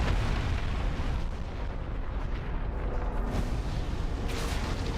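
Gears blow apart in the game Lord of the Rings: War in the North with a heavy, rumbling explosion, a loud, deep roar that fills the moment and then trails into crackling debris noise.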